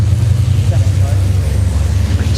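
Seventeen racing trucks on a green flag lap at Thruxton Circuit: a continuous, loud low engine rumble throughout, with a commentator's voice over it.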